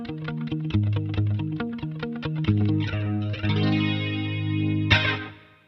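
An electric guitar plays chunky chords and riffs, drenched in spacious stereo chamber reverb, the final chord ringing out and slowly decaying.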